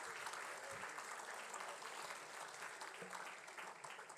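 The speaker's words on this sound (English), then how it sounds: "So, a big round of applause for the SLIIT family." Steady, dense applause from a large crowd at a university awards night fills the whole stretch as an even wash of clapping, heard at a distance and fairly soft, with no clear talking on top.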